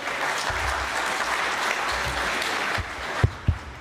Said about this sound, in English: Please give him a hand, would you? Give him applause.